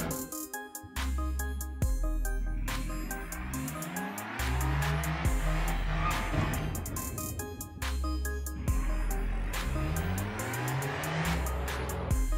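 A car in a racing video game, driving on a badly damaged front tire, revs up and down repeatedly with rising engine pitch, gear changes, tire squeal and skidding, loud and continuous with no talking.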